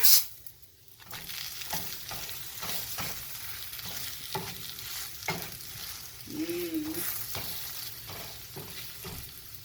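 An aloo paratha sizzles steadily on a hot pan just after being flipped, a close, even frying hiss with soft scraping and a brief clatter partway through, no voices.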